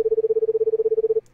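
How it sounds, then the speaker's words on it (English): A single electronic phone tone trills in a rapid pulsing buzz for about a second in the video game The Crooked Man, then cuts off, leaving near silence. "Telephone ringing, sounds like."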